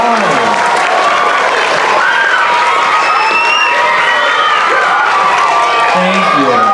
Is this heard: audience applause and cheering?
yes